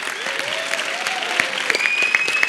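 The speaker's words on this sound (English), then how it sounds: "Give him a warm applause." A gala audience at a film festival opening applauds the film's director as he comes to the stage, a steady wash of clapping with some whistles and cheers rising near the end.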